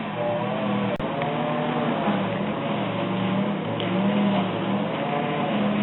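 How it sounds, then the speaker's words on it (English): Small electric motor of a 1969 AE5A talking book machine running steadily, a continuous close hum with a faint low drone and one brief click near the start, no talking. "fire this motor up"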